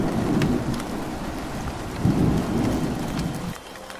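A heavy thunderstorm roars with dense, steady rain pouring down and a deep rumble of thunder from a lightning strike that swells midway, all loud and close with no voices.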